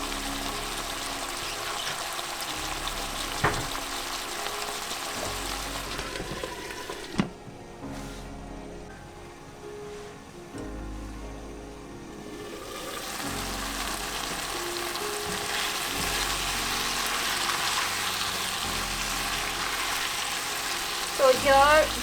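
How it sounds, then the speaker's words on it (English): Chopped tomatoes fry down to a mushy sauce in a pan for tofu makhani, a steady close sizzle that dips quieter midway, with a few clanks of a utensil and a muted voice faintly underneath. "So we'll cook the tomatoes till it's mushy."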